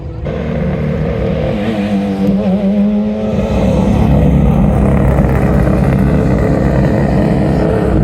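A Lotus Elise racing at a vintage grand prix produces a loud, continuous engine drone that climbs in pitch as it accelerates, heard close and alone without talking.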